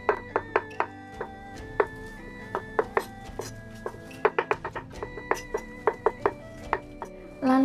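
A knife chops tofu on a board in a kitchen, giving a series of crisp, close knocks in an uneven rhythm with brief pauses, with no talking over it.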